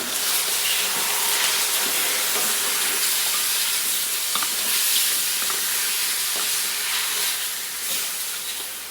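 Bitter gourd and pork pata sautéing in a pan give off a steady, loud, dense sizzle and hiss for the whole stretch, with faint scrapes of stirring mixed in.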